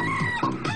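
A chicken clucks in a short burst of throaty calls, close and fairly loud, with no speech over it.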